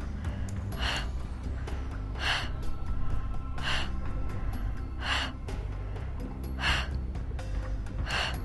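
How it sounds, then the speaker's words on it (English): Sharp, rhythmic breaths during a Pilates workout, six or so quick hissing exhales at steady intervals, close to the mic over a low steady background. "Exhale."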